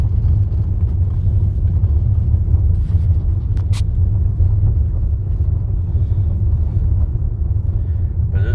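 A car driving along gravel back roads toward Cumberland, Ohio, with a loud, steady low rumble of tires and engine throughout and no voices.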